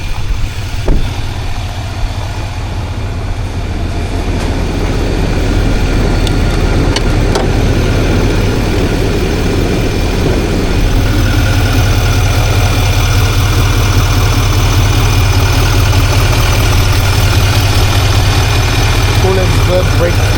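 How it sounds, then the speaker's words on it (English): A 2025 Chevy Silverado Z71 2500HD with a 6.6 Duramax diesel idles under the open hood, a steady low rumble that runs throughout while someone talks nearby. "let y'all see the engine, which is a diesel"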